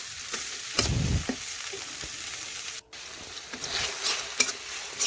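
Onion and spices frying in oil, stirred with a spatula: a steady sizzle with a few low scraping thumps near the start and soft spatula clinks later, fairly quiet and close, with no talking.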